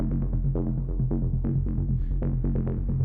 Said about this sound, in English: It's basically distortion, delay, and reverb.